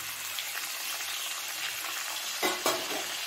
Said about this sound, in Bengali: নেড়ে চেড়ে নিয়ে এর মধ্যে মাছটা দিয়ে দিচ্ছি